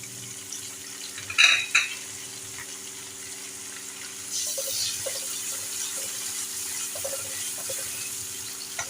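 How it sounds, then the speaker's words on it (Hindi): Garlic ginger paste fries in a pan for a street-style Peshawari chicken karahi, a steady sizzle with scraping stir strokes and a couple of sharper clinks early on, close and continuous with no talk. "लहसुन अदरक के पेस्ट को हल्का सा फ्राई कर लेंगे,"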